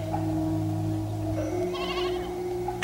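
A small goat bleats at a rural roadside among suspicious farmers, a couple of short wavering calls rising over a steady low engine hum.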